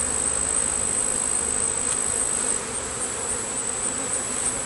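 Honey bees swarm loudly at an opened hive during inspection, a thick, constant droning buzz close by with no pauses and no voices.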